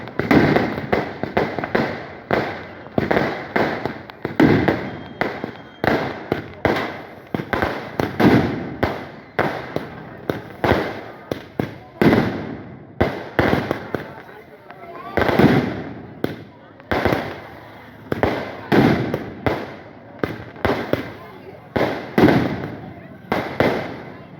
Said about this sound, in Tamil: இப்போ வான வேடிக்கை நடக்குது பாருங்க